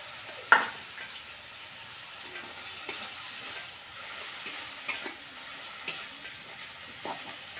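Ginger, garlic and onion paste stirred and frying in a pan for a chicken curry, a soft steady sizzle under occasional scrapes and clinks of the spoon against the pan, with no talk.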